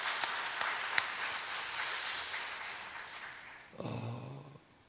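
Congregation applauding in a church during a Sunday service, a broad steady wash of clapping that fades out, followed by a voice speaking near the end.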